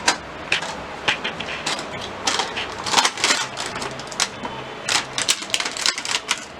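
A 4G router and wireless repeater being unboxed: close, irregular clicks, taps and cardboard rustles come in quick clusters, with no talk.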